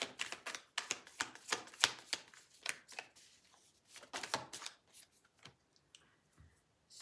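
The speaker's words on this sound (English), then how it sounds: "Let me get a few more cards here." Tarot cards being shuffled and laid out on a table: a run of quick, crisp riffling snaps up close, then softer scattered flicks and slides as cards are placed down, fairly quiet.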